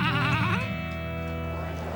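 A single sheep gives a loud, wavering bleat up close in a city setting, trailing off into a steady tone, with no one speaking.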